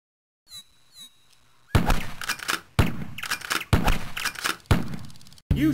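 Gunshots in the Deer Hunter USA arcade game played with a Sinden light gun, a few loud sharp blasts each trailing a short echoing tail, following a quiet stretch with faint electronic tones.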